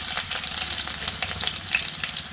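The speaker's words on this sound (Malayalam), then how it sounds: "എടുത്ത് വെച്ചേക്കുന്ന സവാളയൊക്കെ ഇതിലേക്ക് ഇട്ട് കൊടുക്കാം" Sliced onions fry in a pan with mustard seeds, dried chillies and curry leaves for a Kerala-style small prawn roast, a close, steady crackling sizzle with light stirring scrapes.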